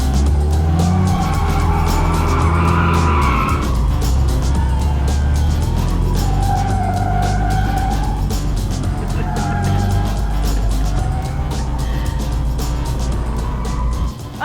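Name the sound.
car drifting with throttle burst, tires skidding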